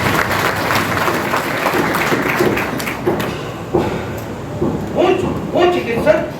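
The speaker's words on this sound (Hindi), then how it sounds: "इनके लिए जोरदार ताली।" An audience at a doctors' association gathering claps loudly and steadily, a dense wash of applause with scattered thuds and taps, while a voice carries over it toward the end.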